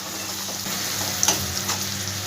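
Onions frying in a pan for a Bengali shola kochu curry: a steady, even sizzle with a soft crackle, fairly close and alone, with no voices.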